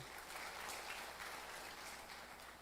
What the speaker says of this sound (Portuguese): eu quero que você aplaude a Jesus por isso